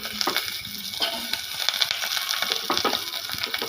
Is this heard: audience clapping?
no